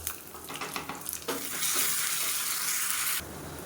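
Cumin, dried red chillies, curry leaves and shallots tempering in hot oil give a close, steady sizzle that swells louder partway through, with faint stirring under it.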